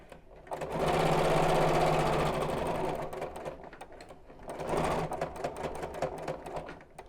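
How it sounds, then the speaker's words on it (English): A sewing machine stitching a zipped biscornu pouch runs in two steady, rapid bursts, the first longer and louder, separated by a brief slowdown, close and alone without talk. "And sew down to the snip."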